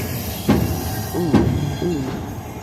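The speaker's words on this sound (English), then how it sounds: "It's probably just some old rail joints." Rumbling train noise with periodic heavy clunks and faint squealing wheels as cars, including a Baltimore and Ohio passenger car, roll over old rail joints, fairly close.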